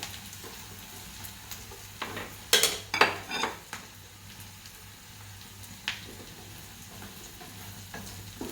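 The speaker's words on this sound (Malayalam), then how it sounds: "ഇനി നമുക്ക് ഫ്രൈ ആക്കി വെച്ചിട്ടുള്ള ഈ സോയ ഇതിലോട്ട് ഇട്ട് കൊടുക്കാം." Fried soya chunks tipped into a hot pan and stirred, with a cluster of clattering scrapes and sizzling as they land, then quieter intermittent stirring over a steady background hiss.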